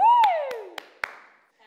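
A handful of scattered hand claps from a few people on a chat show, sparse and uneven, following a loud falling 'woo' cry.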